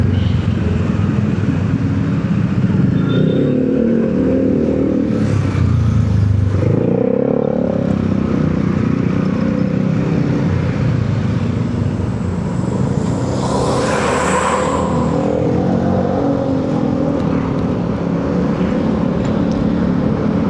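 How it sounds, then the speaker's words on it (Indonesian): A loud motorcycle exhaust roars steadily for about twenty seconds, swelling and easing through revs, with a brief surge midway that sounds close and continuous. "ntar ada suara motor, knalpotnya berisik banget."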